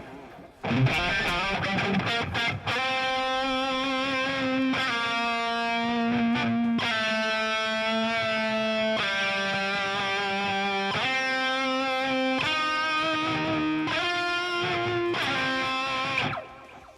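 Distorted electric guitar lead tones played through a Marshall amp simulator, sustained melodic notes and bends ringing loud and steady for the whole stretch, with no talking.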